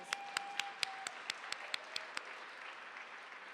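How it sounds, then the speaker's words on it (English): A crowd at a county government forum claps in applause, with a few loud, distinct claps standing out near the start before blending into a softer, steady patter. "Give yourselves a round of applause."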